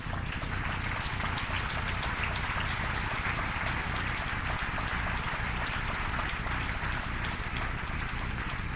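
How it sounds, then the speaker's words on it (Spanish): Sustained, steady applause from a lecture audience in Puerto Vallarta, a dense even wash of clapping at moderate level that holds without a break for the whole stretch. "va un aplauso para los candidatos independientes"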